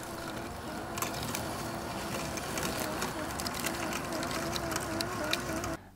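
Sunseeker Elite X7 robotic lawn mower with AI vision and all-wheel drive running on a lawn, a steady low motor hum with a droning tone and light clicking, fairly quiet and continuous before cutting off abruptly.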